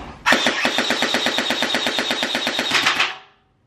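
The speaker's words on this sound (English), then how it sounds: "it is in fact shooting after just setting the balls in there. So y'all can hear it hitting the trash can" An AK-47 style gel blaster fires a rapid automatic burst of gel balls into a trash can, a loud steady rattle of roughly twenty evenly spaced shots lasting about three seconds, then cutting off abruptly.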